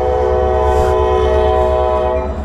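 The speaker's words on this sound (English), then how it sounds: "It's a fucking train coming!" A loud, sustained train horn blares over the deep rumble of a passing train, close and continuous throughout.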